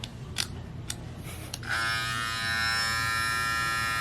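After a few faint clicks and handling knocks, a Babyliss Lo-ProFX hair clipper switches on and runs with a steady, close, high-pitched electric buzz that holds evenly to the end.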